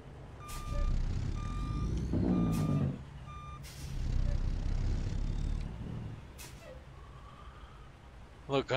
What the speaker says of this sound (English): We're gonna have to back in from the road on this one too, I think.